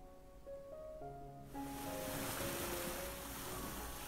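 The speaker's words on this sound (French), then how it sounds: "Aujourd'hui, c'est une journée de tempête. La mer est très agitée." Stormy, very rough sea waves rush in as a broad, steady roar that starts abruptly and continues loudly after soft musical tones.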